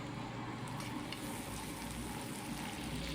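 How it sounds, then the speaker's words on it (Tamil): Shallots, garlic and curry leaves sautéing in hot oil for a Tamil brinjal masala gravy, giving a steady, close sizzle and crackle that runs unbroken without any talking. "பாருங்கள், ஆனியன் நல்லா வதங்கி வந்துருச்சு."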